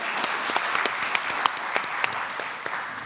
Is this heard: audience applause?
yes